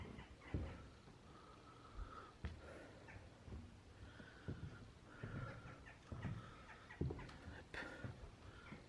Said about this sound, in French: Nos amis, les oiseaux sont parmi nous.